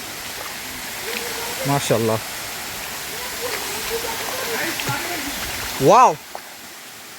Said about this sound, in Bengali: প্রথম ঝর্ণায় চলে আসছি, বড় ঝর্ণা। সাউন্ড পাওয়া যাচ্ছে